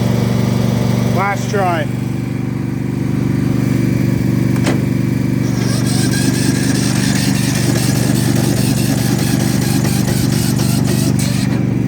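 A Yard Machines lawn mower with a suspect battery and starter is cranked with the electric starter, which gives a loud steady grinding drone that runs the whole time and never catches. Someone speaks briefly near the start.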